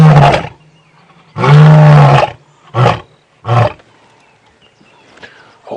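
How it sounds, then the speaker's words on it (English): A male lion roars on an early-morning safari drive, a series of deep, powerful bursts: one short, one long sustained roar, then two brief grunting calls, close and loud with quiet between. "Oh, he might roar again. I heard some other lions to the east that set him off."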